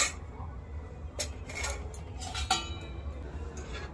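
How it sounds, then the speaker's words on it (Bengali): A metal lid set on a cooking pot while making chitoi pitha, a few light clinks and scrapes of metal on metal, close and fairly quiet, with no talk. "একটু ঢাকা দিয়ে রেখে দেবো"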